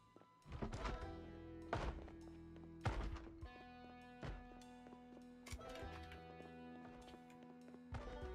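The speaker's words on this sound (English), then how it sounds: "I'm gonna go kill that zombie so they stop knocking on the damn wall." A zombie knocks on a wall in a survival video game, with irregular heavy thuds repeating over several seconds above a sustained tonal background.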